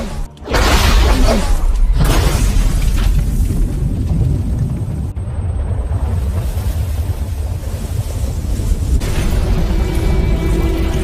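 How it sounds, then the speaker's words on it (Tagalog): A loud explosion bursts out, followed by a sustained rumbling roar and crackling debris that fades into lingering noise. "biglang na-activate ang isang bitag at sumabog ang buong gusali"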